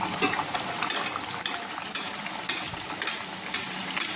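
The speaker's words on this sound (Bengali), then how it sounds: "আবার আমি এক পিস ছেড়ে দিলাম তেলের মধ্যে" Dal puri made with chana dal fries in hot oil, a steady crackling bubbling with sharp metallic scrapes and clinks from a utensil recurring about every half second.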